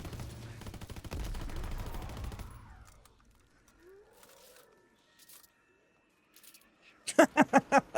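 Light machine gun fire in Call of Duty: a dense, loud stream of automatic shots for about two and a half seconds. Near-quiet with faint game sounds follows, then a rapid run of sharp, heavy bursts at the end.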